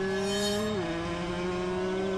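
A car accelerating to flee in a Thai ghost story, a steady loud engine drone whose pitch dips slightly partway through as it pulls away, heard alone without talk.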